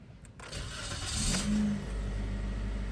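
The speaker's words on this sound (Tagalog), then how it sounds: "Paandarin ko na yung makina." A Toyota Vios XLE (2019-2024 model) engine cranks and catches close by, revving up briefly before settling into a steady idle, with no talking.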